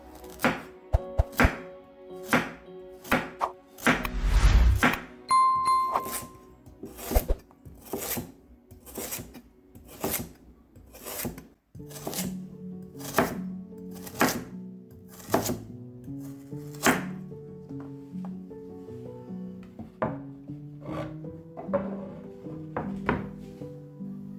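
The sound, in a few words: knife chopping carrot on a cutting board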